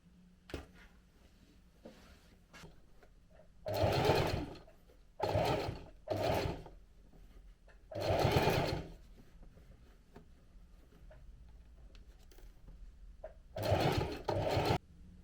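Sewing machine stitching pleated trousers, heard as five separate close bursts of rapid mechanical whirring, each a second or so long, with quiet handling noise between runs and no talk.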